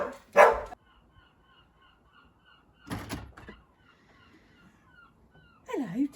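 Ralph, a cockerpoo, gives a few sharp, close barks spaced several seconds apart indoors, with a brief voice near the end.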